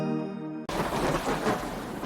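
A sudden loud crack of thunder bursts in after a sustained tone, followed by a heavy rumbling roar that stays loud and close.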